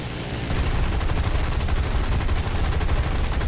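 Sustained rapid gunfire aimed at a P-36 fighter plane in the War Thunder video game arcade battle, loud and continuous machine-gun bursts with a dense rattling texture and no talk over it.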